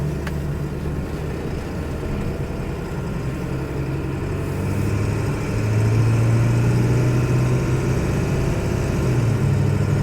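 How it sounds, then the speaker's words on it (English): A 2001 Ford Excursion Limited with a 7.3L Powerstroke diesel, lifted and in 4WD, driving on a test run: a steady, loud low diesel drone that rises slightly in pitch and strength partway through as it accelerates, with no talking. "let's take it for a little test drive"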